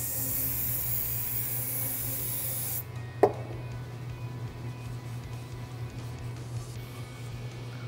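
A KTM/Husqvarna WP 4CS fork outer tube is cleaned with a hissing spray and rubbing, a short sharp knock midway, then quieter wiping and handling sounds close by.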